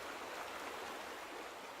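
A stream in The Vanishing of Ethan Carter flows in a steady, even rush of water that carries on unbroken throughout, sounding soft and fairly distant.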